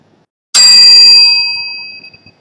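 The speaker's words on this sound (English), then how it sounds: "this would be the first round, the bell sound" A bicycle bell rings once with a sharp, bright strike, used as a round timer during interior design final project presentations, its metallic tone ringing on and fading over about a second and a half in a quiet room.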